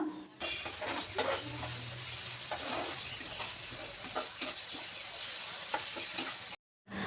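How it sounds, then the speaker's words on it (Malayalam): Tomatoes sautéing in a pan with shallots and green chili: a steady, close sizzle and frying hiss runs throughout, with occasional stirring scrapes, then cuts off abruptly near the end. "ഇനി അതിലേക്ക് തക്കാളി ഇട്ട് കൊടുക്കുകയാണ് തക്കാളിയും ചെറുതായിട്ടൊന്ന് വാടി കിട്ടണം"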